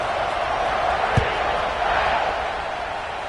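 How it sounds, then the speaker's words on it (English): A stadium crowd in a Madden football game keeps up a constant, broad roar, with one short thump near the middle. "this crowd is buzzing after that last score"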